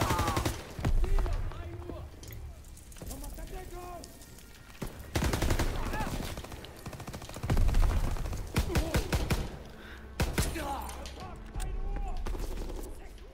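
Rapid gunfire from Call of Duty WW2 crackles in repeated bursts over thirteen seconds, loud sharp shots broken by short lulls, with battlefield noise around them.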